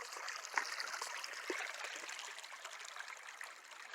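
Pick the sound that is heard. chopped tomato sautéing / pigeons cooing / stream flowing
stream flowing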